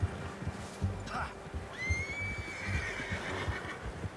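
A horse whinnies in Red Dead Redemption 2, a rising drawn-out call standing out over low game ambience and background rumble.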